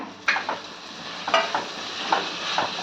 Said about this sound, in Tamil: இஞ்சி பூண்டு பேஸ்ட்டு பச்சை வாசனை போகிற வரையும் கிண்டிக்கலாங்க